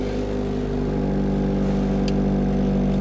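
Loud car engine idling or running close up inside the car, a steady, rough low drone with a continuous harmonic rumble and no pauses.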